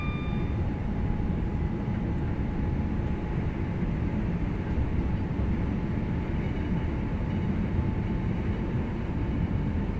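A Class 323 electric train in Train Sim World accelerates on the Birmingham Cross City Line toward Bromsgrove, giving a continuous heavy rumble with a faint steady motor whine, close and unbroken with no talk.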